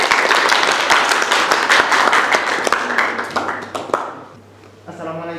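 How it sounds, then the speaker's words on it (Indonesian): A classroom audience gives a burst of dense applause for a student group about to present, many hands clapping steadily for several seconds before fading out, then a voice starts speaking. "Kasih tepuk tangan yang luar biasa untuk kelompok 3."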